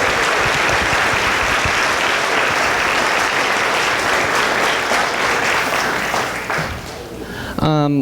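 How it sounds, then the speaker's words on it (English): A school community celebration audience claps loudly and steadily for Fred, sustained applause that fades near the end as a voice begins speaking. "one more big round of applause for Fred as well"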